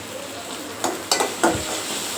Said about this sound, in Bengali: আর এই যে মরিচ ভাজি করতেছি ভর্তার জন্য।